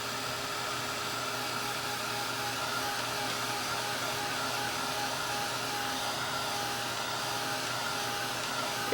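A hair dryer blows on wet acrylic paint, a steady loud whooshing hiss with a faint motor whine that holds unbroken from start to finish, with no talking.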